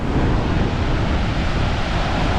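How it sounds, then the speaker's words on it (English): Waterfall on the Snake River, fed from the Grand Teton area, over a partly man-made cascade: a steady, loud, broadband rush of falling water with a wind-like roar that holds constant throughout, no voices. "You can see there's a waterfall on the Snake River which comes all the way from the Grand Teton"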